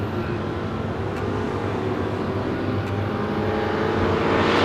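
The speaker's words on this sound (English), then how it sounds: "And Tony De Azevedo in the 69 Camaro goes red bulb" Drag racing cars at an eliminations event, a 69 Camaro and a 66 Ford Mustang, roar steadily with loud broadband engine noise that builds slightly toward the end, no talk heard.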